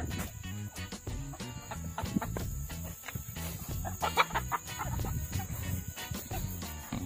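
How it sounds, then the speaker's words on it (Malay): Chickens feed in a rural garden plot, and soft overlapping clucks and a few louder calls rise from the flock over a constant background hum and scattered knocking. "Ayam duduk tengah makan belah sini."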